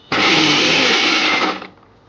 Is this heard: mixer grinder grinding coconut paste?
yes